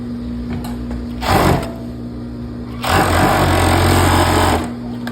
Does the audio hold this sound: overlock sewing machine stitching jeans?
yes